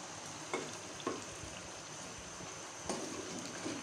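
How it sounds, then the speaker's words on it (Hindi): Chicken frying in a pan with tomatoes and spices for murgh chanay, a low, steady sizzle with a few sharp spoon scrapes against the pan, fairly quiet. "चिकन के साथ इन सारे स्पाइसेस को 4 से 5 मिनट तक मैं अच्छी तरह से भूनूंगी"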